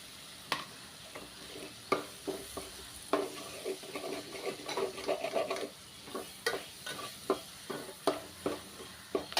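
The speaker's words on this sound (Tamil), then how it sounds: "நல்லா மறுபடியும் கிண்டி விட்டு வதக்கணும்." Green turkey berries (sundakkai) being stirred and fried in a pan, with a soft continuous sizzle broken by repeated close scraping strokes of a spoon against the pan, steady and moderately quiet, no voices.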